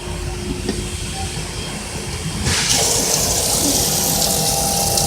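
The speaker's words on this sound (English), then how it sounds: "And you leave the pump on to make sure you get all the water out?" A pump runs to drain the water out of a watering cart, a steady rushing, gurgling water noise that grows louder and fuller midway and then holds constant.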